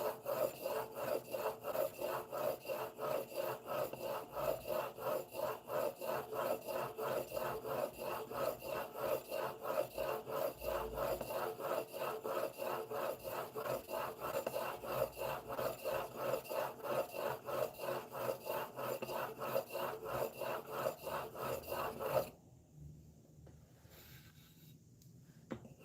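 The blade of a Stanley No. 4 hand plane is rubbed on an 8000-grit sharpening stone in fast, even back-and-forth strokes, a close rhythmic scraping that carries on for about twenty seconds, then stops into near silence.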